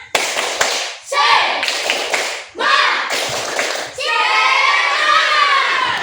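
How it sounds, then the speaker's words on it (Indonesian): Schoolchildren in a classroom do a rhythmic spirit clap, loud bursts of patterned claps in several phrases, with a voice and chanting mixed in, ending in a longer spell of applause. "Oke, 1, 2, 3, tepuk semangat."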